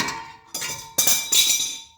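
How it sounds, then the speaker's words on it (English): A hammer strikes a fan clutch, giving four sharp metallic clanks in quick succession at close range, each with a brief ringing tail. "So let's take a hammer"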